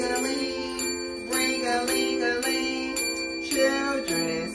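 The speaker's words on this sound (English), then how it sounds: "Let's ring some bells on this special day while we sing Sabbath bells." Hand bells ring through a children's Sabbath song, giving bright, repeated ringing strikes in a steady rhythm over the tuneful music.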